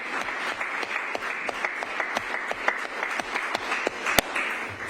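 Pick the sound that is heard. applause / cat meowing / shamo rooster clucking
applause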